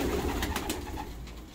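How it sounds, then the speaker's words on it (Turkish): Tumbler pigeons in a coop of Budapest-type fancy pigeons give soft, low cooing calls in a few brief bursts, fairly close, over a steady background murmur. "Dönek kuşlar"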